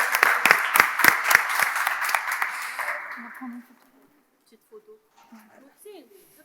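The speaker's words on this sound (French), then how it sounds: "je vais vous demander de les applaudir bien fort" An audience at a pediatric emergency medicine session claps loudly for a few seconds, then the applause fades out, leaving near silence with faint scattered sounds.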